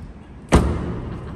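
A car door swings shut with a single loud, close thud partway through, then a low rumble of background noise lingers.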